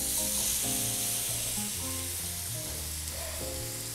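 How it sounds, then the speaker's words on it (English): Beef searing in smoking hot oil in a cast iron skillet, a loud continuous sizzle and hiss close up with no talking. "To sear the beef, you really need a smoking hot pan."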